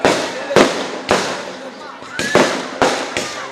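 Firecrackers burst at a temple wedding festival, a string of sharp loud cracks roughly every half second, with crackling and busy background noise of the crowd between them.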